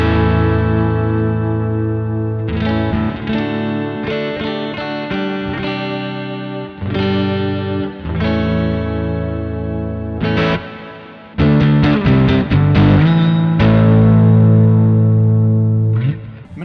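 A Rick Beato signature Les Paul electric guitar plays distorted chords and notes on its neck pickup through effects, loud and sustained, with a few short pauses and choppy restrums.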